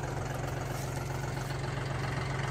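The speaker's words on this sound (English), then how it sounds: "so we're gonna use a tractor" A tractor engine idles steadily up close, a low, even rumble with a constant throb that holds unchanged from start to finish, with no voices over it.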